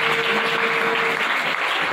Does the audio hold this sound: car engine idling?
no